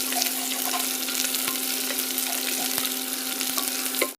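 Onions and green chillies frying in oil with whole spices for a plain biryani, a steady close sizzle with faint stirring clicks throughout and no voices.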